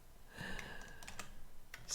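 Quick keystrokes on a computer keyboard during Unity game development: a short, close burst of light clicks spread over about two seconds.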